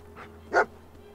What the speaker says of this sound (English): So you get your companion pet right off the bat. That's dog meat, by the way.